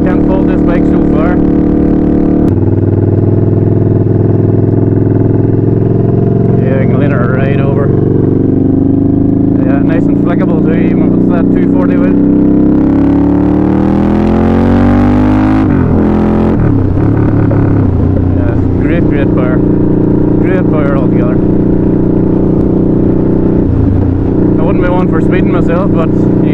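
A Harley-Davidson Night Rod motorcycle rides at speed, its loud engine droning steadily and rising in pitch through a long acceleration, then shifting and settling, with a rider talking over it throughout.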